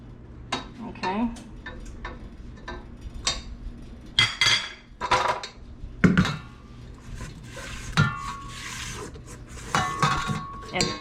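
Utensil scraping and tapping against a bowl while flour is folded into tres leches cake batter, irregular soft strokes and clinks close by, with someone talking over parts of it.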